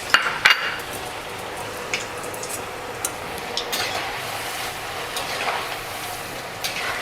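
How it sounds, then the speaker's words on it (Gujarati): Pieces of purple yam (ratalu) fry in hot oil for Gujarati undhiyu, a continuous close sizzle with a few sharp utensil clinks near the start. "રતાળું પણ થોડુંક બ્રાઉન કલરનું થાય ત્યાં સુધી તળવાનું"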